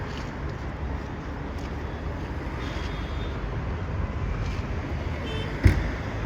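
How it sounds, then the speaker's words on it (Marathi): Sunday road traffic rumbles as a continuous broadband wash of passing vehicles, fairly loud and steady, with a sharp thump near the end. "तुम्हाला ट्रॅफिक दाखवतो रामा. हे बघा ट्रॅफिक."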